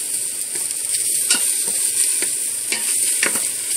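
Mushrooms sautéing in an electric pressure cooker on its sauté setting: a steady, bright hiss of frying with occasional soft scraping stirs, close and loud, and no voices.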